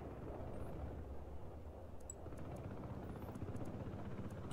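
Helicopter in the video game Broken Arrow, a low rumbling rotor drone with faint chopping, steady and moderately distant, mixed with distant game ambience.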